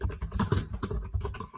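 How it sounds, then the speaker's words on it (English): Rapid, uneven clicking of keys being typed on a keyboard, close by and fairly quiet, in short bursts with no talking. "Sorry if you can hear me typing."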